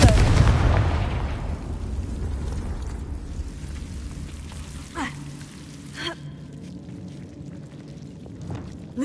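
A Confringo spell blast in Hogwarts Legacy opens with a loud boom that fades into a rumbling tail, followed by a couple of sharper, fainter cracks later on.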